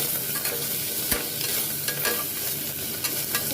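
Goat trotters (paya) seasoned with salt and ground pepper fry briefly in a pan. A close, busy sizzle sits under frequent stirring and scraping sounds, and no one speaks.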